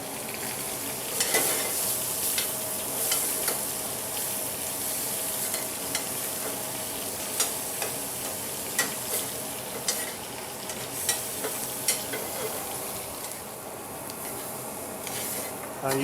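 Onions sweating in a dollop of butter in a pan, a steady bright sizzle up close with soft rhythmic spatula scrapes and occasional light taps throughout.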